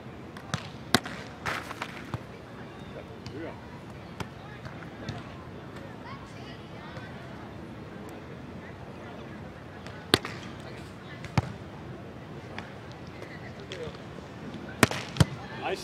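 Volleyballs are spiked and dug in a beach volleyball transition drill. Sharp hand-on-ball smacks land irregularly, a few loud and close and others softer, amid footsteps and frequent shouted encouragement from players and a coach.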